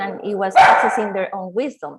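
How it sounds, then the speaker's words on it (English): A dog barks at a neighbour's dog somewhere off-mic, a brief burst partly masked by a person speaking steadily over it. "That's my dog, sorry. It's just fighting with a neighbor dog."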